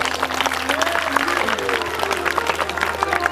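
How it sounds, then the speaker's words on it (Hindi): Listeners at a Shrimad Bhagavat Katha religious discourse clap along, scattered hand claps over a steady low hum of amplified sound, with murmuring voices mixed in. "जोरदार ताली बजा दे एक बार"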